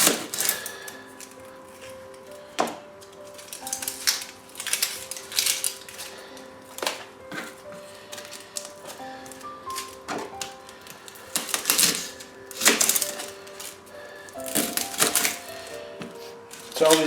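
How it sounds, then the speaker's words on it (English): A knife chops onions on a board in irregular, crisp knocks and bursts of close chopping, heard under a person talking and soft background music. "cut the onions."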